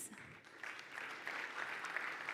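Audience at a Garmin Fenix 8 launch event keeps up continuous applause, a steady wash of many hands clapping at a distance without any clear voices.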